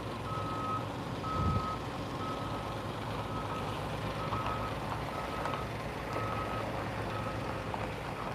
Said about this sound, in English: I don't know if this truck's gonna back up or not